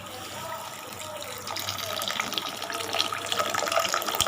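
Water pours into a cooking pan while poori masala is being made, a steady running splash building slightly louder partway through, close and without talk.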